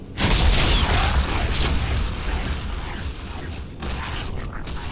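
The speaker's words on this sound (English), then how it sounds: "the Digger does as it implies, firing a little beastie that literally goes nom nom nom" A Digger launcher in Gears of War fires a burrowing creature, giving a loud, gritty mechanical grinding and creaking rush that holds steady for several seconds and then thins out slightly.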